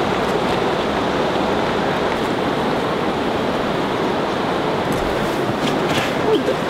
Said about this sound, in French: C'est la cascade de Pilonné.